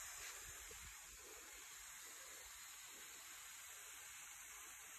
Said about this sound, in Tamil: இலைகளுக்கும் கொஞ்சம் தண்ணி படுறது நல்லம்.